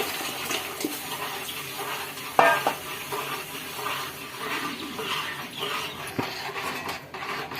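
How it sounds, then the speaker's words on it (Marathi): Rice flour being stirred into boiling water in a cooking pot to make sandage batter, giving a steady scraping and bubbling texture with a few sharper clinks of the spoon against the pot, heard close up with no talking. "त्यात पीठ घालायचे आहे आता हे आणि एकसारखं डवळायचं आहे"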